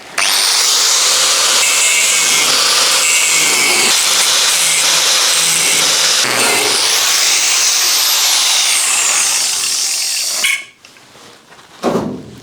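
A welded brace is cut back out of a Mk1 Caddy bed, a loud, harsh, continuous metal-cutting roar that holds steady for about ten seconds, then stops abruptly and gives way to a few quieter knocks.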